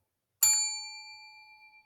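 A single bright bell ding strikes cleanly and rings out, its metallic tone slowly decaying in near silence.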